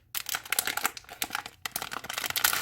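Nanoblock packaging for a Caterpie and Poké Ball set crinkles and tears as it is opened by hand, a steady run of close, dense plastic rustling with brief pauses and no voices.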